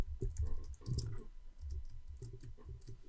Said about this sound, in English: I can always use the keyboard shortcut to highlight to the right